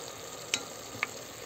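Steady sizzling of onions and mushrooms sautéing in a hot pan for chicken sauté, with two light clinks of a utensil stirring.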